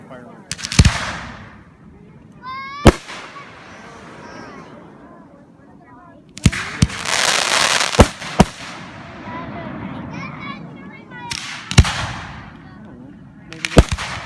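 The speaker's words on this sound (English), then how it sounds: "Fireworks." A pyromusical fireworks show controlled by remote, with sharp loud bangs and booming bursts at irregular intervals, followed by crackling rattles and fizzing trails, as spectators talk nearby.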